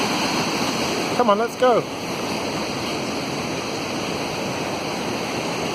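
Rogie Falls in Scotland pours into its river below a footbridge, a loud, steady rushing roar that fills the whole scene, with a brief spoken remark heard over it.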